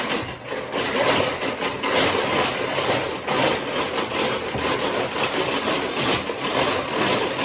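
Kitchen mixer whipping eggs for a homemade Caesar dressing, a steady motor whir with fluctuating beater rattle running throughout at moderate volume close by.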